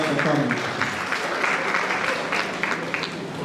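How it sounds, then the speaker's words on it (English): A crowd at a Lagos youth event applauds to welcome a state commissioner, a steady round of clapping that carries on throughout at fairly loud level, with voices mixed in underneath. "Please help me welcome Mr. Gbenga Omotosho with a round of applause."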